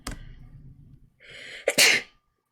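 A single loud sneeze, preceded by a sharp intake and a breathy build-up, ending in an explosive burst, close up, followed by silence.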